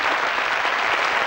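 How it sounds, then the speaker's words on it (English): A studio audience on a 1982 British game show applauds, a dense steady burst of clapping heard on its own. "Give them a round of applause, ladies and gentlemen."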